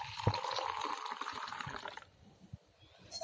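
Lukewarm water poured while mixing triphala churnam, a short, close splashing pour that trickles and gurgles for about two seconds before stopping, followed by a few faint drips.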